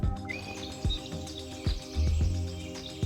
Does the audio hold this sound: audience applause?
no